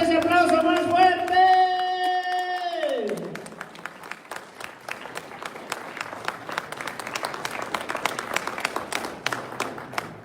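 A church congregation applauds for God at a parish service, with loud, scattered clapping that rises after a sustained musical tone and carries on for several seconds as a dense crowd sound.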